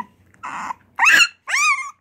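A big puppy from a litter lets out three short vocal bursts, a low rough sound followed by two higher whiny yips, close and clear with quiet gaps between them and no talking.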